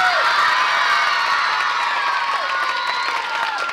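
A crowd at a birthday surprise cheers and whoops loudly and steadily, with children's shouts and some clapping mixed into the noise throughout.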